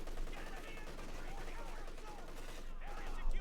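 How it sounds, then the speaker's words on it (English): Heavy and light machine guns firing in the Company of Heroes 2 strategy video game, a dense, continuous rattle of battle noise lasting throughout at moderate volume. "heavy and more light machine guns"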